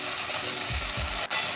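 Okra (ladies finger) frying in a pan after a sprinkle of salt gives a steady, close sizzle, with a few soft scraping stirs near the middle.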